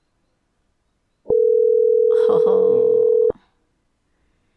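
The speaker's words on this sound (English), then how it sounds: "Somebody's phone's ringing like we're calling somebody" A single loud, steady electronic tone from an outgoing phone call holds for about two seconds and then cuts off abruptly, with a brief voice overlapping it midway.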